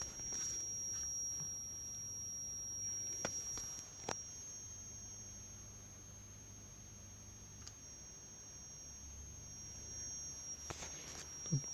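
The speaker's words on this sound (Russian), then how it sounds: "мой осциллограф еще пищит" A thin, steady high-pitched whine from an oscilloscope picking up electrical interference persists throughout, with occasional soft clicks and a faint low hum underneath.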